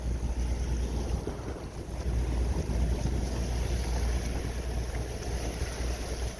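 Sailboat under way leaving the Two Harbors anchorage at Catalina Island in early morning, a continuous heavy rush of wind buffeting the microphone over low water and hull noise, steady throughout with no voices.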